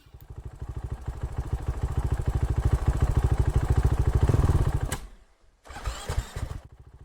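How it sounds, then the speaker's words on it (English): A dirt bike engine on a trail idles with a loud, chugging, uneven thump, then cuts out and stalls before briefly sputtering back, rough and close by with no voices. "my bike seems to stall and it's hard to start and even bogs down sometimes in this video"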